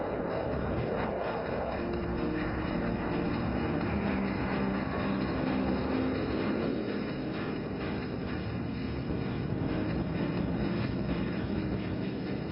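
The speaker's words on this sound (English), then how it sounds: "the aircraft will come for a very tight offensive turn, like turning tight on a racetrack in the sky" Military jet engine roaring steadily throughout as the aircraft makes a tight offensive turn at an Indian Air Force Day air show over Lachit Ghat, Guwahati, loud and sustained with broadband rumble and no voices.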